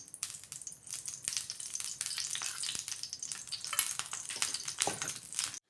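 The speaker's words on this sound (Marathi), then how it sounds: "बघा 2 चमचे तेल पॅनमध्ये गरम झालेलं आहे" About two spoons of oil sizzle as they heat in a pan on a gas stove, a steady bright hiss with small crackles and pops, close and continuous for several seconds, with no talking.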